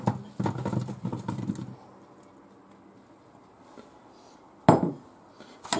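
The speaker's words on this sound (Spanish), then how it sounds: "Y ahora los echamos en la bandeja del horno." Cherry tomatoes dressed with olive oil and salt tip onto a metal oven baking tray, giving a cluster of clattering knocks at first, then quiet, then one sharp metallic clank.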